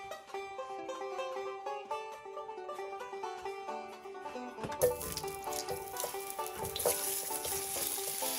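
Sausage and potatoes fry in a pan, a bright steady sizzle rising abruptly partway through and continuing under tuneful background music.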